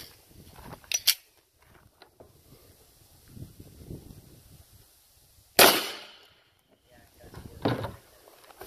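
A single sharp 10mm RIP round gunshot cracks loudly at mid-clip during an outdoor ballistics test on ammunition, flanked by a few smaller knocks and handling clatter.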